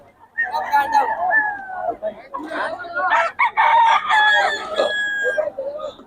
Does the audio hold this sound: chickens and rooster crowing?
yes